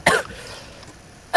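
Two short, harsh coughs, one at the start and another at the end, separated by a quiet pause.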